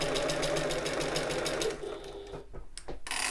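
A sewing machine stitches rapidly with a steady pulsing rhythm while back stitching at the start of a turning gap on a shoulder bag seam, then slows and halts amid small handling clicks.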